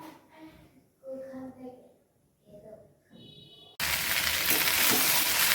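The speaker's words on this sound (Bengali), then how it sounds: "আলু আর ভেন্ডি একসঙ্গে ভাজা বসিয়ে দিয়েছি" Potatoes and okra frying together in a pan, a loud, steady sizzle that bursts in abruptly after a stretch of quiet talk and holds strong to the end.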